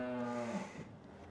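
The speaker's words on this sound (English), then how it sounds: "Right, let's get these cows out." Holstein dairy cows at grazing time give a single deep, drawn-out moo from close by, its tone sliding downward before breaking off into low rumbling, with no voices.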